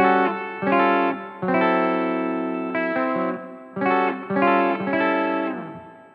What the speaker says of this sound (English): I'll kick on the reverb because I like reverb.